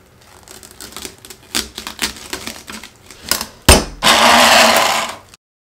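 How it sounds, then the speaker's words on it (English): A coffee grinder covered with plastic wrap gives uneven rattling clicks and bursts, then a loud steady whir of grinding for about a second before it stops. "Now I'm going to cover my coffee grinder with saran wrap so all the mixture doesn't get all over the place."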